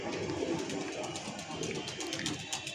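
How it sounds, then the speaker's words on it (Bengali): A racing homing pigeon comes down to the loft after a 35 km race, and pigeons coo softly through a steady outdoor background while someone talks over them. "এই যে জোনাক কবুতরটি এখন নামাচ্ছে উপর থেকে।"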